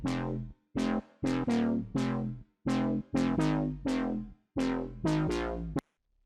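A bright, buzzy tech house synth lead plays a choppy melody of about a dozen short, punchy notes with gaps between them, dry and upfront with no effects.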